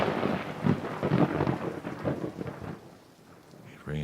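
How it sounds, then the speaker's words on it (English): Heavy nighttime rain on the prairie with rolling thunder, a loud rumbling wash that fades toward the end before a brief new burst. "It rained hard that night."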